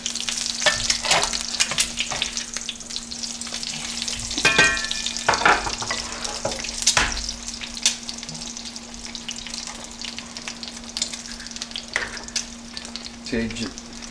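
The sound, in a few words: lacy eggs frying in hot oil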